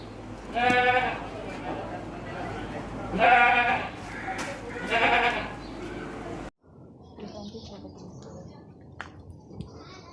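Punjab Ablak goats giving three loud, drawn-out bleats in close succession at a livestock market, followed by a quieter stretch of faint ambient noise and soft clicks.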